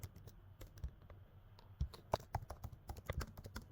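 Computer keyboard keys clatter in irregular bursts while code is typed, quiet and close, with sharper clicks standing out from a steady tapping rhythm and no talking.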